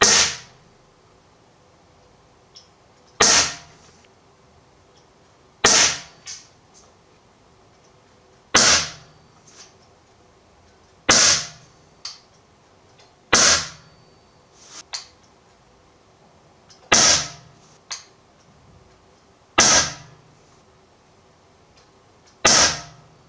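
An Umarex Strike Point pump air pistol fires about ten loud, sharp cracks at steady intervals of two to three seconds, with softer clicks and handling noises between shots and no talking.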